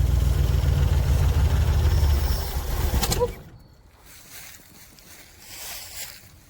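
A 1973 Ford Maverick engine, which sat unused for over 20 years, cranks with a loud, rough, churning roar for about three seconds, then cuts off abruptly into quiet with faint background noise.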